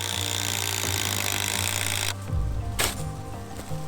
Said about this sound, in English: Apparently I've got the world's bluntest drill bit.